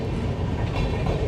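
Train rolling past at a railway crossing just outside Prayagraj junction, a steady close rumble of rail cars with faint clickety-clack, continuous and loud with no talk.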